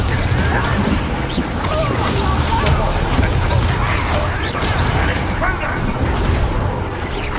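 Confringo fire-spell blasts in a Hogwarts Legacy battle come as loud, dense, overlapping crashes and booms with whooshing impacts, alongside shouted voices in chaotic combat.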